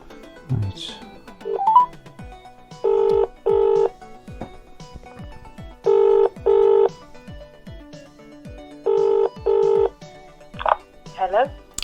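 A telephone dialling a classified advert number sends paired tone beeps in three evenly spaced groups. Brief ringing or tones come at the start and end, close, with someone speaking around them.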